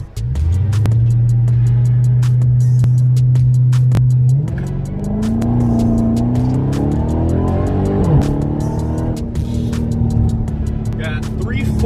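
A Dodge Charger Redeye launching hard without launch control, its engine roaring loud and close as it pulls through a gear change, pitch climbing steadily then dropping and rising again.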